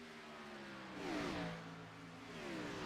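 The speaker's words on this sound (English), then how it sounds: "Sounds like an engine quit or something." Race car engine in a Gen 6 stock car sim racing video game, a steady mid-pitched drone that swells briefly, then settles, as the car rolls slowly toward the pits.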